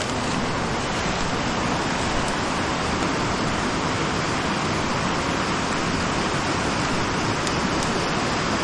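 River water flows with a loud, unbroken broadband rush at a fishing spot on the riverbank, steady and close throughout with no voices over it.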